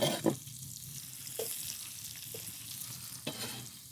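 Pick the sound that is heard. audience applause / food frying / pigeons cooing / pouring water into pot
food frying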